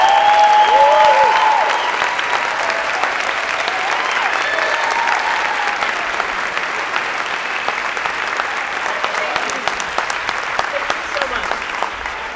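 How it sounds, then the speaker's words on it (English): A film festival audience gives a sustained, even round of applause for the film's crew after a screening, a thick wash of many hands clapping in a theater that fades only slightly toward the end. "Give them a round of applause."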